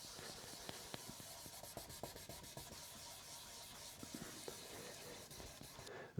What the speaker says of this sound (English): our primary focus is just to polish out the scratches from the previous grit